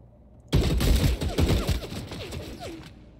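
AK rifle gunfire in Vampire: The Masquerade – Bloodlines: a loud, close burst of rapid automatic shots, about two and a half seconds long, with bright mechanical clicks between rounds.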